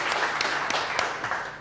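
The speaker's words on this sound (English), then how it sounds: "short applause." A conference audience gives a short burst of applause, a quick dense patter of hands lasting little more than a second.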